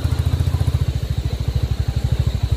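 A Royal Enfield motorcycle thumps along a rough mountain road between Yamunotri and Gangotri, its loud, fast, even single-cylinder beat recorded up close with no voices.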